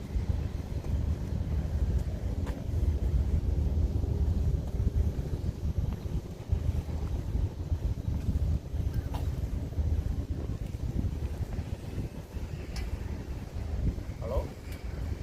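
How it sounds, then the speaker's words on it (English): Strong wind gusts buffet the microphone outdoors in a seaside nature park, a steady low roar that swells and eases throughout with no clear pauses. "Nice weather. It's so windy."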